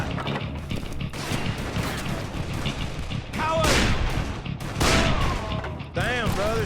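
Gunfire in the Western shooter Call of Juarez: Bound in Blood, loud bursts of shots over a busy game soundscape with music and effects throughout.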